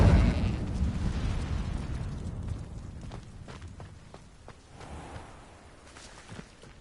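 Incendio fire spell cast in Hogwarts Legacy on PS5, a loud fiery burst at the start that decays into crackling pops, with faint footstep-like ticks and smaller bursts following.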